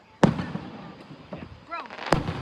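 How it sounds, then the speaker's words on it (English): Fireworks at an Ocean Isle Beach fireworks show go off in two sharp booms, one near the start and one near the end, heard at a distance while people talk nearby. "The finale is like 8 fireworks at least."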